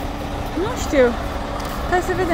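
Bus engine idling and running with a low steady rumble, heard from inside under close children's and adults' talk throughout.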